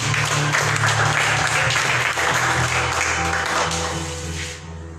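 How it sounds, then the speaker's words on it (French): A congregation at a church service applauds, a loud, dense wash of clapping with a low hum underneath, holding steady before fading toward the end. "laisse applaudir le Seigneur"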